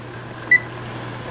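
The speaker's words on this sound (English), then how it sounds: "We're going to set a timer." Two short high beeps from a kitchen timer, one near the middle and one at the end, clear and close over a low steady appliance hum, with no talking.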